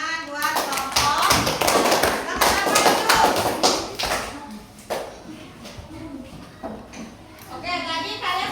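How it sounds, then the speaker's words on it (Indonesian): A school class claps for a group, a burst of close, uneven hand claps and taps that thins out halfway through, with children's voices chattering over and after it. "Ya, oke, tepuk tangan buat kelompok."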